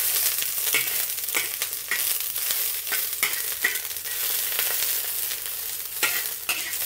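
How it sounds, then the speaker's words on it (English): White parts of spring onion stalks frying in a wok with ginger for spicy stir-fried clams, a close, continuous sizzle broken by repeated scraping stir strokes, no voices. "putting in the white part first. We'll fry them until they are fragrant."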